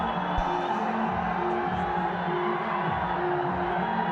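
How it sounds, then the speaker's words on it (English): Loud cricket stadium crowd at a Nepal Premier League match, steady dense roar of cheering and whoops close to the ground, continuous throughout with no clear breaks. "it's hard when you've got such a loud crowd and they're so close to the ground"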